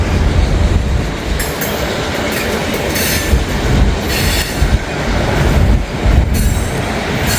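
A mixed manifest freight train with boxcars rolls past close by, wheels clattering over rail joints in an irregular rhythm, with bursts of squealing and a constant heavy rumble.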